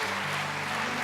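A church congregation at a Sunday evening service claps to congratulate a missionary, a brief, steady burst of applause over a low room hum.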